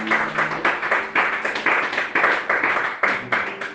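A church congregation claps and applauds during a sermon, with dense, rapid rhythmic clapping that surges in waves, loud and close, with a faint voice briefly heard beneath.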